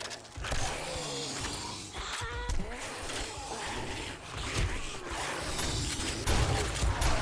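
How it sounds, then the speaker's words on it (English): Mechanical clicks and creaking metal parts of an M60 machine gun being reloaded in the zombie survival game 7 Days to Die, busy and close, over continuous game noise during a horde fight. "Crazy how fast the M60 reloads as well"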